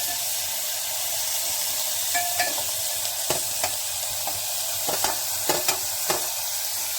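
Cooked bitter gourd sizzles steadily in hot oil with tempered spices while a spoon scrapes and taps the pan in scattered strokes; no voices.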